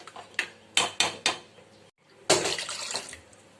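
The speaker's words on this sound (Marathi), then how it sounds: "कढीपत्ता आता हिंग आता मस्त मिक्स करून घेऊया" Curry leaves and asafoetida tempering stirred in a cooking pot: a hot sizzle and hiss with a spoon clanking against the metal, loud and close, with no talk.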